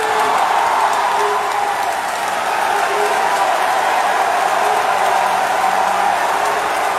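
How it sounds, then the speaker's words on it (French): A dense crowd at a rally in Burkina Faso applauds a government minister, producing a continuous, loud roar of clapping and cheering that holds steady throughout. "On applaudit ici pour Bassolma Bazier."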